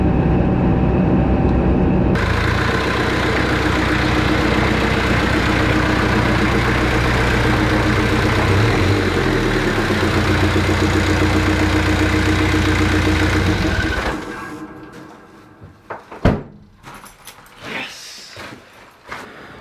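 A Jeep Cherokee XJ with a 2.5 VM turbo diesel and Garrett GT2052 turbo cruises at about 80 km/h under 2,000 RPM, giving a loud, steady drone that cuts off sharply near the end, leaving scattered knocks and rustles.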